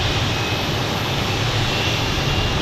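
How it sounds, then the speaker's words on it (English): Aircraft engines, likely on a Boeing 737, spool up at an airport, a loud, steady, continuous roar and whine with no talk over it. "Oh, I hear some engines starting up."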